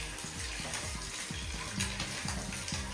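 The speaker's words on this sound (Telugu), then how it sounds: "లైట్గా ఫ్రై చేయాలండి, ఎక్కువ చేయకూడదు. లైట్గా ఈ కారం ఎగ్స్ పట్టేటట్టుగా." Eggs frying lightly in a pan with chili powder, giving a steady close sizzle with crackling pops throughout, no talk.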